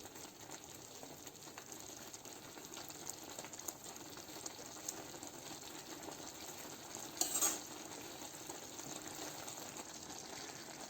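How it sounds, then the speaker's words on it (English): Maggi noodles boiling in a pot on a stove give a faint, steady bubbling and sizzling hiss, with one brief louder clatter partway through and no voices. "Now, as you can see, the Maggi is boiling."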